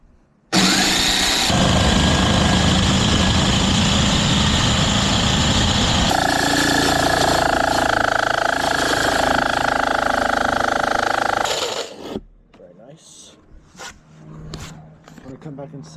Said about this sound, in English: now we're gonna take the jigsaw, the scroll saw, and cut this baby girl out